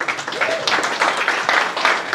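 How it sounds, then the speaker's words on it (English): Audience applause after a technical talk, a brief burst of dense clapping from a room full of people, fairly close and loud. "A big clap."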